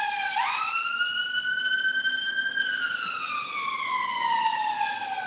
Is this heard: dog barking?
no